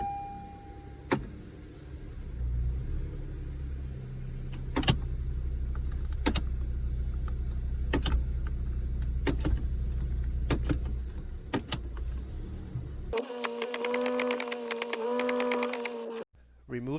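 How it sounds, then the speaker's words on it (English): A Honda Civic with a CVT transmission idles steadily with a low rumble. Sharp clicks and clunks repeat over it, then a louder whining hum takes over near the end before cutting out. "Start the car, press the brake pedal firmly, and shift through each of the gears 3 times."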